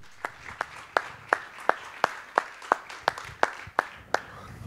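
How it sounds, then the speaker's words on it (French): Slow, evenly spaced single claps, about a dozen over a few seconds, fairly close and distinct against a quiet room at a public-sector management talk. "vous pouvez les applaudir s'il vous plaît"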